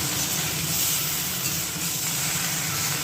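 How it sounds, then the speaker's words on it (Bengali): Constant, even sizzling of salt, turmeric, cumin and coriander powder frying in hot oil, close and unbroken, with no voices. "এটা খুব সুন্দর হয়ে গেছে ভাজা"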